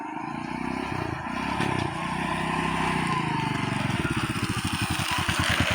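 A 1995-model motorcycle engine running close by, a steady droning idle that turns into a rapid pulsing thump as it revs toward the end.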